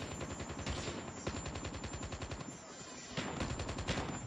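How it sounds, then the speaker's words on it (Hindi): Gunfire in a video game, with a shotgun among the weapons, crackles in rapid, dense bursts of repeated shots. It stays loud and sustained almost throughout. "यार, शॉटगन से मर गया यार"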